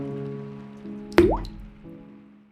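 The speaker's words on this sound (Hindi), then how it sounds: "तुम और चिंटू मिलके जहाँ पानी गिर रहा है वहाँ पे बर्तन रख दो" Rainwater drips through a leaking roof into a pot in a cartoon, a single loud plopping drop with a squishy splash, preceded and followed by soft tonal background hum.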